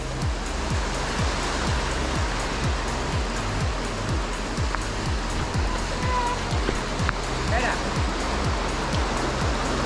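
The Leiro river rushes steadily beneath a traditional log footbridge on a forest trail, a dense, continuous roar of flowing water close by with no break.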